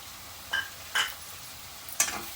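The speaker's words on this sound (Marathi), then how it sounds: "कढीपत्ता घालते कांदा चांगला म्हणून शिजवून घ्यायचा आहे" Onion cooking with curry leaves in a pan: a quiet background sizzle broken by three short scraping strokes of a spoon against the pan.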